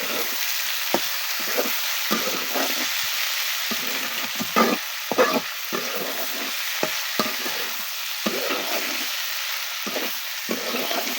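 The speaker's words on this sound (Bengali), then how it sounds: "আমি এবার আলু আর পেঁয়াজ দিয়ে দিব সবগুলো আবার ভেজে নিব ভালো করে" Potatoes and onions fry in a pan for a mashed onion-flower dish, a steady close sizzle broken by frequent sharp clicks and scrapes of stirring, with no voices.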